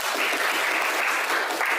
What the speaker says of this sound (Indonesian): tepuk tangan dong Bu Juna